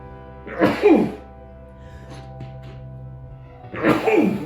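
Two loud sneezes close to the microphone, a few seconds apart, with quiet room noise in between.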